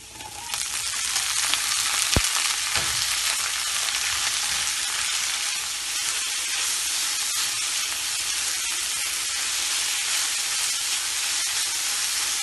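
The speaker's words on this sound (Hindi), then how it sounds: "सब्जियों को 1 मिनट तक हमने फ्राई कर लिया था" Vegetables frying in a hot pan for restaurant-style fried rice, a loud continuous hiss and sizzle after a couple of sharp clanks at the start, steady and close with no talking.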